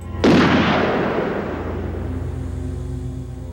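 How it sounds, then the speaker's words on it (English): A single loud, close gunshot from a slow-motion flashback in the 1994 film Discretion Assured, a sharp blast followed by a long, booming rumble that slowly fades. "we see an alternate reality where she did actually shoot Paige"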